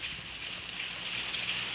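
Light, steady rain falling, a continuous even hiss of drops without a break and with no voices over it.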